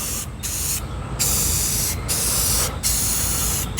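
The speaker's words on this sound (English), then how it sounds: "I'm just using some spray balm on this" An aerosol can of spray balm coats the bare metal of a Chevy C10 pickup bed. It comes as a close, hissing series of bursts, each lasting about a second, with brief gaps between them.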